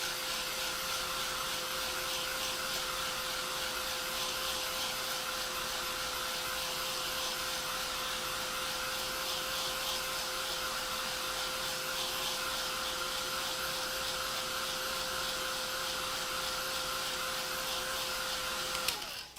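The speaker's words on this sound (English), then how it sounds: "When you use a heat gun on acrylic paint, be sure you keep it moving and not too close to the surface." A heat gun drying acrylic paint on a gnome figure roars in a constant, loud, close blowing hiss that holds steady the whole time with no talking, then cuts off at the very end.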